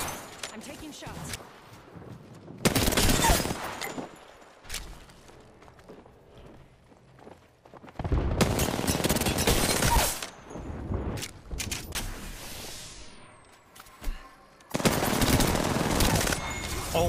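Automatic weapon fire in the video game Apex Legends comes in several loud bursts of rapid shots, separated by quieter stretches of footsteps and game noise, with talk mixed in.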